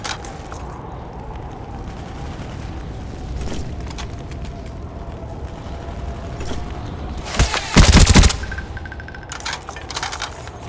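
FAMAS rifle fire in a Search and Destroy match on the map Array, faint scattered shots under a steady hum, swelling into a loud burst of gunfire and impacts near the end.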